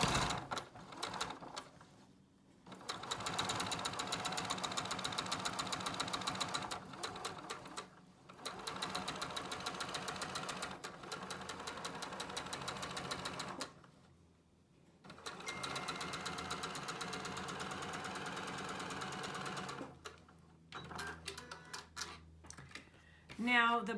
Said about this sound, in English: now I will finish sewing